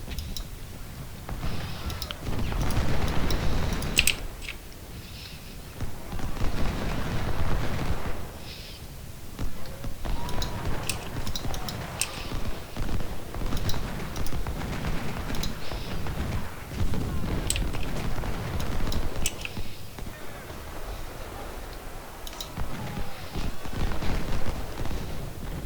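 Cannon fire in a battle video game set at Philippi: a dense, continuous barrage of booming shots and crackling volleys layered over steady battlefield noise for the whole stretch.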